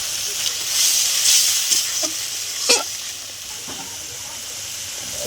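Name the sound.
spice paste frying in a pan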